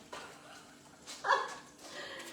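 A pet dog at home during a live cooking stream lets out a single short bark, mid-loud and close, against quiet room tone.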